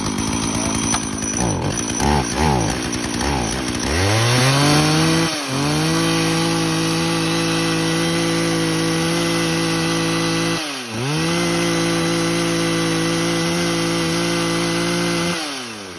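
A G3 chainsaw pulls to life and roars as it revs and cuts wood, then settles into a loud, steady running drone with brief dips in engine speed; no one speaks.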